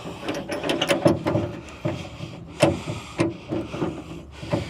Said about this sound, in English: Then we're going to turn this turnbuckle.